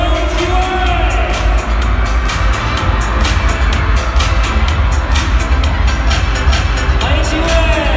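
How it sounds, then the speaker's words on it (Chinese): Fans scream and applaud at a fan event for the TF Family trainees, a loud continuous wall of cheering, shrieks and clapping from a large crowd. "让我们用热烈的尖叫声和掌声欢迎几位！"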